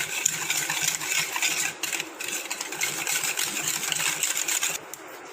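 Eggs being quickly mixed into coffee cake batter, a continuous busy scraping and clinking of a utensil in a bowl, close and steady with a couple of short breaks.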